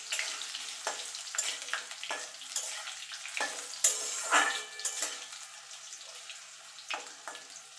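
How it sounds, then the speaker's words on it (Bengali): Long potato strips for a vegetarian pui shaak chorchori fry in hot oil with steady sizzling crackle, punctuated by repeated scraping stirs at an irregular rhythm, close and moderately loud with no talking. "আলুটাকে একটুখানি আমি ভাজা ভাজা করে নেব"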